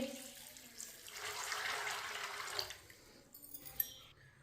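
Water poured into a cooking pot of washed black chickpeas runs and splashes steadily for a couple of seconds, then tapers into a few small clinks and drips, fairly close and moderately quiet.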